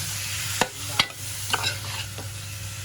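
Masala and tomato stir-fry in a pan for a seafood curry, a soft sizzle under several sharp spoon knocks and scrapes spaced about half a second apart.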